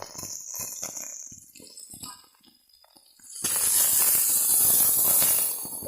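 Ginger and garlic hit a hot iron wok with a sudden loud, steady sizzle that starts midway, after a few seconds of quieter clinks and kitchen handling.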